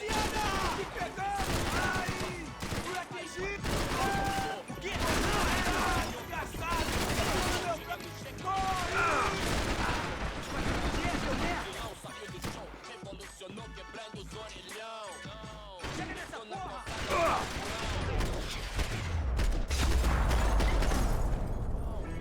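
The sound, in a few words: gunfire in the video game Max Payne 3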